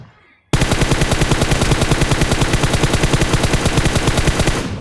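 Sustained automatic gunfire in a battle royale video game, loud and close, a single long burst of rapid evenly spaced shots that starts abruptly after a brief quiet moment and rattles on without pause.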